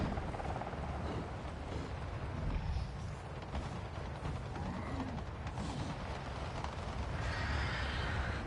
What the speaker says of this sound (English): There's one helicopter above